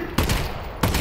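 Gunfire in Half-Life: Alyx, loud close shots bursting at the start and again near the end over a dense rattling background of fire.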